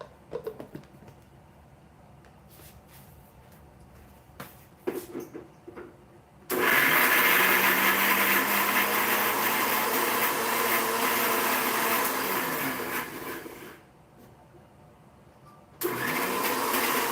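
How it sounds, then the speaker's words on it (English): A kitchen grinder whirs loudly and steadily as it blends soaked cashews into a paste. It starts abruptly after some light clattering, runs for about seven seconds, stops, then starts again near the end. "So in the same grinder I'm just going to take my cashews that I have soaked and make a paste"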